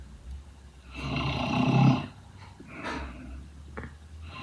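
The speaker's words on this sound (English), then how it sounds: "That sounds like a mixture of soft breathing and hard breathing." Snoring, a reaction to a cartoon character's snore, with long rasping inhales mixed with softer and harsher breaths, fairly loud and close, followed by quieter breathy puffs.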